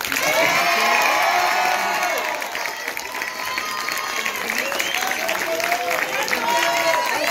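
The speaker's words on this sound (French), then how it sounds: "on va les applaudir très fort" An audience applauds the candidates at a French negotiation competition, a steady wash of clapping with cheering and shouts mixed in, loud throughout.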